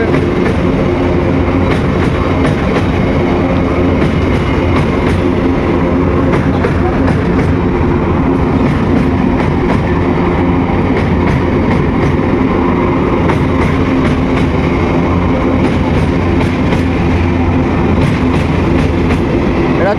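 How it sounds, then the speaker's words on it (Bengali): A train passes loudly and continuously on the railway line near the Kolaghat bridge, with a steady rumble and rhythmic wheel clatter across the whole stretch. "সো গাইজ একটা ট্রেন আসছে দেখতে পাচ্ছ"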